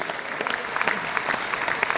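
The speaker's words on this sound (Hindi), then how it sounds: "एक बार जोरदार तालियां सब के लिए" An audience at a Safe Shop celebration event applauds, a brief, fairly steady wash of many hands clapping at moderate volume.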